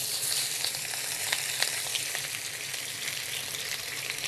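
Shrimp frying hard in a wok on a BlueStar cooktop, a loud, dense, continuous sizzle up close with faint occasional ticks and scrapes, no talking.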